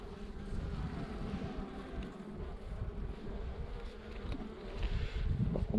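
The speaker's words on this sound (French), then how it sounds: "c'était un essaim" A swarm of honeybees drones loudly and continuously close by, a dense unbroken buzz with slight swells in level and no speech over it.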